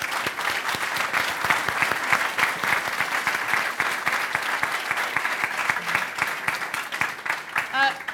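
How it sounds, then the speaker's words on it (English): Audience applause at an education and skills forum fills the whole stretch, a dense, steady wash of many hands clapping with a faint voice near the end. "Can we give them a big clap"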